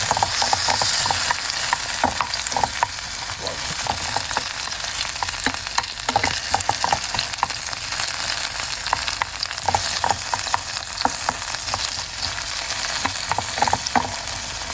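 Tomatoes go into a hot pan for a tomato egg stir-fry and fry noisily, a dense, close sizzle peppered with crackles and stirring scrapes that continues steadily without any speech.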